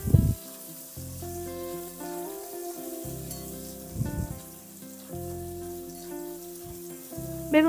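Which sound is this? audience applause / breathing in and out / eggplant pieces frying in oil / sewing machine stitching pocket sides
eggplant pieces frying in oil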